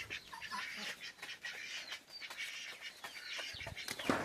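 Chickens and chicks peck and cluck while being fed rice in a rainy village yard, soft scattered clucks, chirps and a brief flutter of wings, faint and close.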